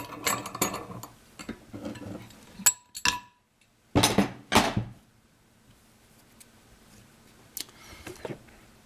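Metal valve keepers on a KLR motorcycle engine clink into place during a top-end rebuild, making sharp, close, scattered clicks and taps with a cluster of bright clinks in the middle and quiet pauses between.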